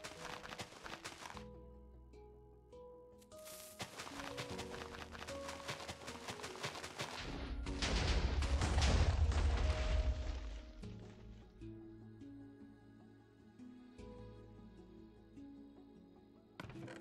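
Explosions tear through a wooden mansion in Minecraft on Xbox One, with blasts and crashing debris swelling to a loud, dense rumble mid-way, then trailing off into scattered clatter and game music.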